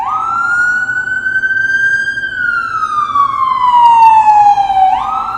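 A loud ambulance siren wails close by in one long rising and falling sweep as the vehicle passes. Traffic rumbles faintly underneath and nobody speaks.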